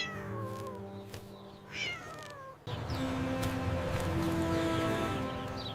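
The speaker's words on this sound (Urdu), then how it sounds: "یہ آواز کہاں سے آ رہی ہے؟ لگتا ہے کوئی رو رہا ہے۔ ارے یہ چھوٹی بلی ہے" A small thirsty cat meows and cries in several drawn-out, wavering calls, fairly close, over a steady background hiss that grows louder partway through, with no talk.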